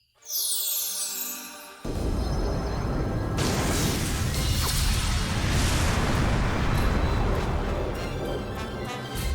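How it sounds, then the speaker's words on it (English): A cartoon lighthouse transformed into a rocket blasts off into space, with a sharp ignition followed by a loud, sustained roaring rush of thrust that holds steady to the end. "Did that lighthouse turn into a rocket lighthouse and blast into space?"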